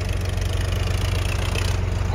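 A Ford 3630 tractor engine idling, a steady low rumbling drone with regular pulsing, close and continuous, with faint voices in the background.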